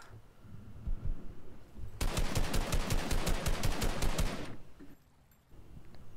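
Rapid automatic gunfire in the Fortnite video game, a loud sustained burst of evenly spaced shots lasting about two and a half seconds over game ambience, which then drops to a quieter background.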